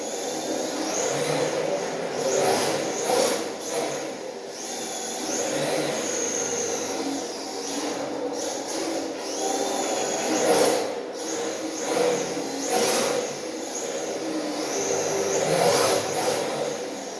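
A Yokomo YD2 RC drift car's electric motor whirs steadily as the car drives, rising and falling in pitch with throttle, fairly loud and continuous with no talking.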